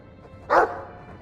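A single short bark from a Mabari war dog in Dragon Age II, sharp and fairly close, rising out of a quiet room-tone background and fading quickly.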